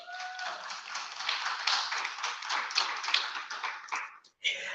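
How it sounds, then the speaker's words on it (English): Audience clapping at a mayoral candidate's financial literacy event, a dense patter of hands that swells and then cuts off abruptly near the end. "Clap if you agree with me."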